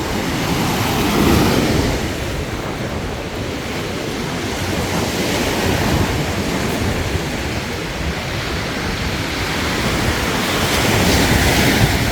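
Strong gusting wind and crashing waves at a lake, a dense continuous roar that stays loud and close throughout, with heavy wind buffeting the microphone and no voices.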